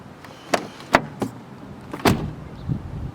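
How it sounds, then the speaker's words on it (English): Doors of a Mercedes-Benz W124 300TE AMG wagon shutting: several solid thuds, two sharp ones then a heavier closing thud near the end, close up in a quiet setting with no talk. "I can just be here all day shutting the doors."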